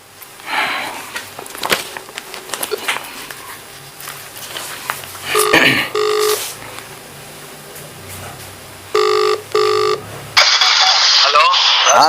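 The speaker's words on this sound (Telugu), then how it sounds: "జనార్దన్కు ఒక్కసారి నేను ఫోన్ చేస్తా" A phone call is placed: short tonal beeps from dialing, then a ringback tone in paired bursts followed by a brighter connecting sound, with a man's nearby speech and handling noise in between.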